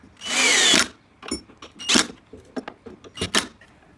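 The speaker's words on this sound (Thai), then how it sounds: "ก็ทุกครั้งก็ต้องเจาะเป็ร่องเข้าไปก่อนนะคะ" A power drill bores a hole into a wooden cabinet leg during a simple DIY storage cabinet build: one loud sustained whir up close, then a few short bursts and clattering knocks of the tool and wood.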